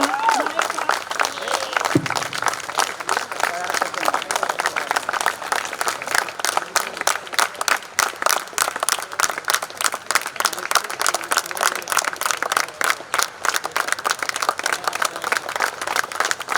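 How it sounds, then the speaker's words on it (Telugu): A crowd on its feet gives sustained applause as a standing ovation at a retirement function, steady and dense for the whole stretch, with a few voices faintly underneath. "ఒకసారి అందరూ నిలబడినట్టయితే మనం క్లాప్స్ ద్వారా మరి సార్కి స్టాండింగ్ ఓవేషన్ తెలియజేస్తూ"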